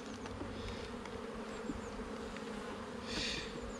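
Dense, steady buzzing of honeybees at an open hive during an inspection, the hive clogged with brace comb; a continuous close swarm drone that swells briefly near the end, with no voices.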